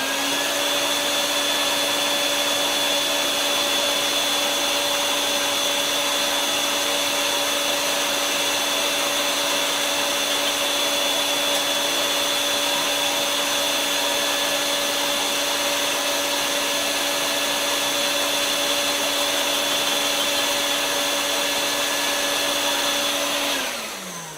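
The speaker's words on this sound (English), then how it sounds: "So I'm going to close down my vacuum valve to get a more vacuum going." A vacuum winnower separating cocoa husks with its valve closed down, giving a loud, steady motor drone with a strong constant whine that runs unbroken, then winds down briefly at the very end.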